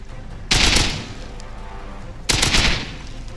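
Two loud bursts of gunfire in the video game Rust, each a rapid crackling volley, separated by a short pause with low background noise.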